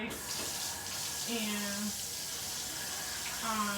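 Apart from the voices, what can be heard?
water running in kitchen sink while draining thawed fillets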